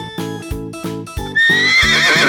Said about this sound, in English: How does horse sound?